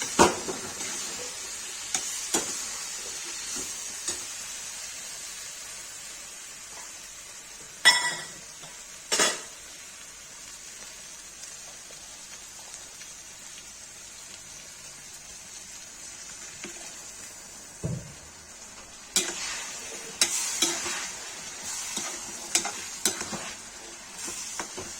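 A spoon stirs a tomato and eggplant curry in a pan, soft sizzling running under intermittent scraping and clinks of utensil against metal.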